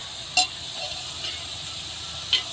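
A biryani mixture with added vinegar is fried in a pan, giving a soft, even sizzle with two sharp metallic clinks of a spoon against the pan. No one speaks during the short passage.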